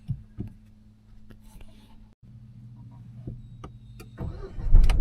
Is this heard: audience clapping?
no